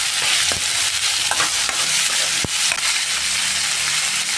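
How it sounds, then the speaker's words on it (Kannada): Tomato fries in a pan for radish gravy, giving a loud, dense sizzle right up close, broken by a few scraping stirs and one sharp knock of the spatula against the pan. "ಟೊಮೊಟೊ ಚೆನ್ನಾಗಿ ಫ್ರೈ ಆಗಬೇಕು."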